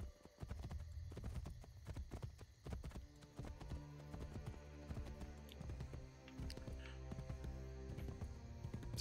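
Horse hooves clip-clop rapidly in the Assassin's Creed Brotherhood video game, a fast, near, galloping beat of thuds over a low background hum, continuing throughout without speech.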